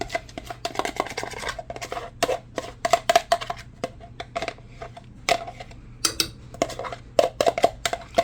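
Clattering metal clinks and scraping knocks as a vegetable mixture goes into a pot of potato soup, sharp irregular hits of utensil against pot over a low steady hum, close and without talk.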